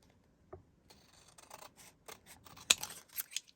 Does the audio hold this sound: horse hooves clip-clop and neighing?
no